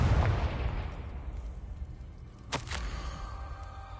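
The Confringo fire spell explodes in the video game Hogwarts Legacy: a loud, boomy low-end blast opens the clip and decays into a rumble, then a sharp crack lands midway with ringing tonal sparkle after it.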